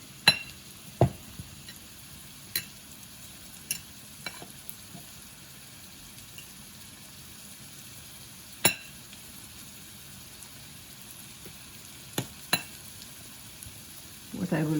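Onions frying in a pan for eggplant baingan bharta, a faint steady sizzle with scattered sharp clinks of a spoon stirring against the pan every second or two.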